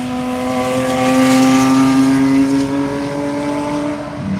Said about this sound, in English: Comes a Cunning Stunts Porsche.